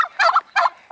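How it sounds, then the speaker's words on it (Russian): Turkeys gobble in two quick, loud, rattling bursts close by, with a third starting at the end and no speech. "индюки. Я их очень боюсь."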